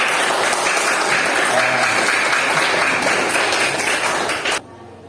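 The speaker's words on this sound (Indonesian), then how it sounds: "Tepuk tangan untuk kelompok 2." An audience claps together in dense, continuous applause for a presenting group at a classroom teaching performance session, then stops abruptly near the end.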